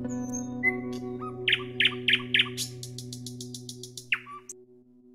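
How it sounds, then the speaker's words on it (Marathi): A nightingale sings a short run of bright, repeated chirps and whistled notes, clear and fairly close, over a faint steady hum with no voices. "N for नाइटिंगेल, नाइटिंगेल म्हणजे बुलबुल."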